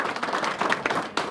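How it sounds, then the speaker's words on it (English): A small gathering at a museum research library dedication applauds donors, a short burst of lively, uneven hand clapping close by, with individual claps standing out from the group. "can everyone please give a round of applause to these wonderful donors"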